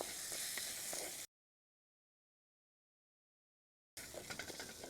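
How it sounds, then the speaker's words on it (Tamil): Onions sauté in a pan, a close sizzle with scraping stirs that drops out into a long silent gap before resuming. "நம்ம வெங்காயத்தை ஆட் பண்ணிக்கலாம் இதை நம்ம நல்லா வதக்கிக்கப்புறோம்"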